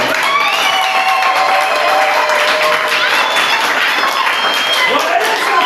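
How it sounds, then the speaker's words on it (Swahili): A church congregation at a Christmas service claps in a loud, continuous, dense wash of applause, with voices singing and calling out over it throughout. "Hata mlipo makofi jamani."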